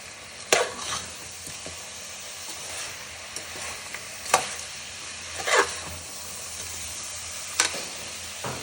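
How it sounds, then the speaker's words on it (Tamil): Masala sizzling in a pan for a country chicken gravy, with a steady frying hiss and several sharp spatula scrapes and knocks at irregular intervals, no talking. "உப்பு வந்து தேவையான அளவுக்கு எல்லாம் சேர்த்து நல்லா வதக்கி விட்டுடலாம்"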